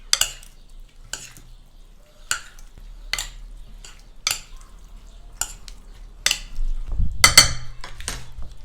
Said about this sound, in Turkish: Ve bunu iyice karıştırıyorum.